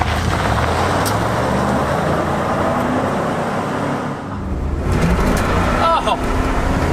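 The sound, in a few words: Chevy K2500 truck with 454 engine driving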